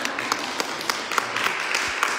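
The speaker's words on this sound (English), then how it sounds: "You can clap if you want." Sparse audience clapping at a press conference by proponents of a Nevada County recall, with a few scattered claps in a roughly even rhythm over a steady room noise, moderately faint.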